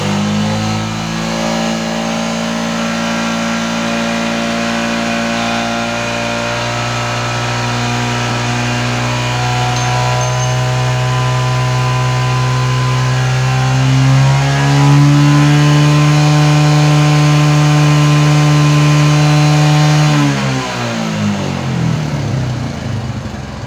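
A Yamaha Jupiter MX motorcycle engine held at idle, then revved and sustained at a higher steady pitch before dropping back, loud and close with no talking.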